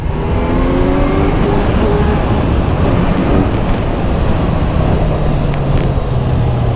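A Kawasaki Z900 motorcycle descends a Rishikesh highway on engine braking, its loud, close engine holding a rough, steady drone with slowly sliding pitch over rushing wind noise, with no talking.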